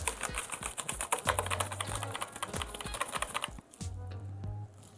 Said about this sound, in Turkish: Bu Red Switch bir klavye arkadaşlar. Mekanik bir klavye.